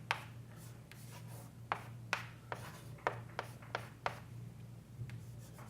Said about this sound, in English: so let me write that